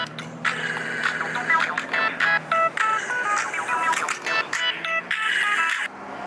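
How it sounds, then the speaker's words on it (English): A mobile phone rings indoors at a church protest, a loud, repeating electronic tone pattern in short bursts with brief gaps, mostly on its own with faint background voices. "whoops, there goes my phone"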